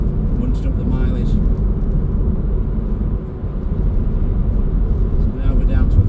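Volkswagen Transporter 2.0 TDI T30 Highline long-wheelbase van cruising at 70 mph at low revs, a steady loud broadband road and engine rumble filling the cabin without break.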